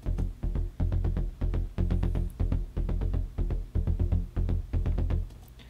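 Deep synth bass notes pulse in a fast, rolling rhythm, heavy and punchy, repeating steadily without pause.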